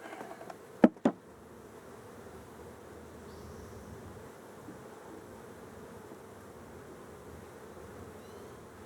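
Honeybees buzz in a steady, droning hum around an open hive during a light inspection, a continuous close insect drone after two sharp knocks near the start, with no speech.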